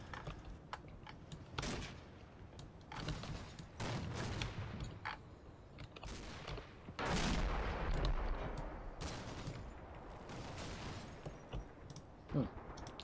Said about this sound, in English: that sounded like something exploded over here. I think it was just mortars